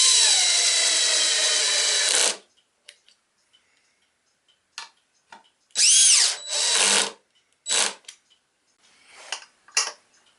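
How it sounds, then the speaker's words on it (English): A power drill drives screws into wooden clock parts in a series of loud whirring bursts of varying length, the first about two seconds long, then several shorter runs, with quiet clicks of handling between them. "I just drill them down until they're just nicely seated, and then I tighten them up by hand."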